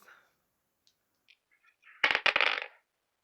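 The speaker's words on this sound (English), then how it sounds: "So let's roll the dice." Dice roll for a reading-challenge game board: a short burst of hard clattering impacts with a few sharp clicks, close and fairly loud, preceded by faint small taps.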